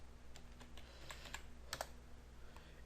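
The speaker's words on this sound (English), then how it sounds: "and then I will type offset" Computer keyboard typing in AutoCAD: a run of light, irregular key clicks, close and fairly quiet, with no talking.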